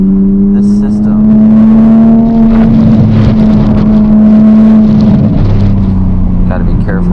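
Toyota Supra with a titanium exhaust driving through a canyon, heard from inside the car as a loud steady engine drone with rising and falling revs and crackles, continuous and close.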